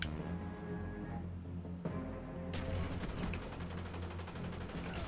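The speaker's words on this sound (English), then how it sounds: "Oh, they shoot me through the wall." Sustained automatic gunfire from a Black Ops 1 Search and Destroy multiplayer match, dense rapid bursts swelling louder partway through over a constant low game rumble, with no talking.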